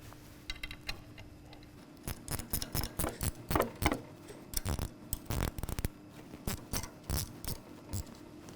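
Bolts on the chain tensioner of a Tilmor basket weeder tightened with a ratchet, heard as close clusters of quick ticking clicks in irregular bursts, with no speech.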